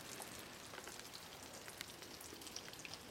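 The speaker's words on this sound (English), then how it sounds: "Here's a quick follow-up video while it's raining. I'm sure you can hear it. It's really more of a light rain" Light rain falling into a rain barrel, a soft steady patter of scattered drops, faint and continuous with no voices.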